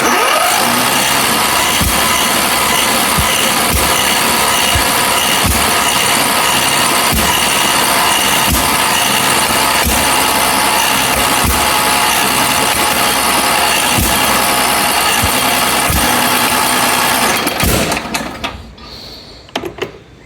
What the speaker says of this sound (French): C'est le système d'un moteur de mobilette.